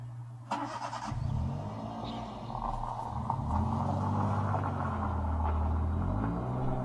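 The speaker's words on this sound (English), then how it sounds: "I really hope that wasn't him driving away" A car engine rumbles steadily close by, low and continuous, with the revving swelling slightly as the vehicle pulls off, the motor sound holding throughout with no talking.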